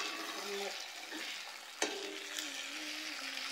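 Masala sautéing in oil in a pan gives a steady frying sizzle with stirring scrapes, a brief sharp clink of a utensil midway, and faint background tones.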